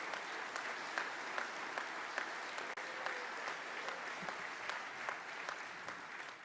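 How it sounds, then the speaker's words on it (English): An audience at a Disabled American Veterans business session applauds steadily, broad even clapping from a large hall crowd, somewhat distant and sustained without a break. "Give her a round of applause."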